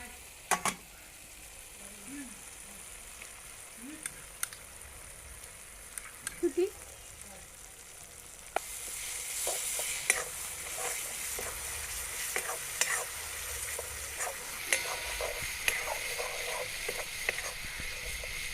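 Masala spices fry in oil in a pan and are stirred with a spoon, giving a soft continuous sizzle with scattered scraping and clinking strokes that grows brighter and louder partway through.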